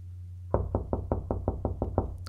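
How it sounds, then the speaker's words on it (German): A door is knocked on in the horror game No Way Out, nine sharp, evenly spaced raps close and loud over a constant low hum, with no speech. "Ich klopfe mal ganz lieb."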